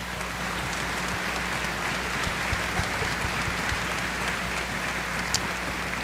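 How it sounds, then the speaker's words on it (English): Concert audience applause at a music festival grand finale, a dense, steady wash of clapping that fills the space without a break and with no voices on top. "A round of applause, please."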